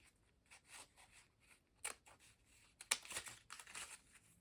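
Scissors snip through a fabric ribbon bow, a few quiet crisp cuts and crinkling handling sounds close by in an otherwise hushed room.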